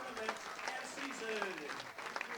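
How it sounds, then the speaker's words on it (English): Crowd applause greets the Bethel Royals at the end of their season at a MIAC baseball playoff game, a steady wash of clapping that runs throughout while an announcer keeps talking over it. "And so the Royals applauded for their season"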